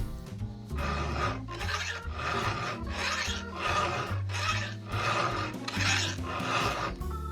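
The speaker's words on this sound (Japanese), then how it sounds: "ゴリゴリという音がしてしっかりと研げているときは" A hand file rasps hard against a chainsaw chain, pressed down with both hands: about eight heavy, gritty strokes in a steady rhythm, each one loud and close, with short gaps between them and no talk.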